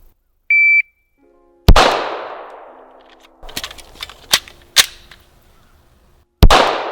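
A shot timer gives one short electronic beep, then a pistol in a chassis fires about four loud, sharp shots at uneven intervals, each followed by ringing decay and some smaller clatter in between.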